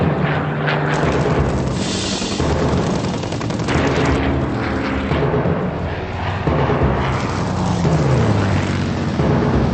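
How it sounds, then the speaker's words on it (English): Aircraft engines drone loudly and continuously as World War II German bomber formations fly toward England, mixed with booms and bursts of gunfire. "Bomber formations fly towards England without their fighter escorts."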